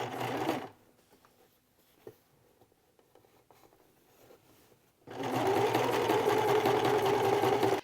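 A sewing machine stitches quilt block fabric in two loud, steady whirring runs, one brief at the start and a longer one at the end, separated by a quiet pause.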